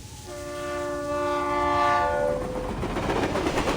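A train runs in the game Reverse 1999, its horn sounding a steady chord for about two seconds over a continuous rumbling clatter of wheels on rails.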